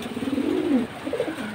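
Pigeons, including Pakistani teddy and silver jabra fancy birds, give a soft, rolling coo that swells and then a second shorter coo follows, close and fairly quiet.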